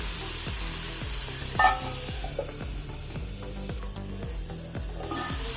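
Dried shark fish fries in hot oil in a pan over a low gas flame, giving a continuous close sizzle with one brief louder spattering burst partway through.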